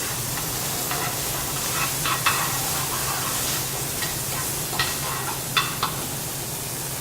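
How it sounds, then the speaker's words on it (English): Sausages searing in a very hot pan with extra virgin olive oil give a steady, soft sizzling hiss with occasional faint crackles and light taps, close by and without speech. "We want to get the pan really hot, so that the sausages fry up very fast, very crispy."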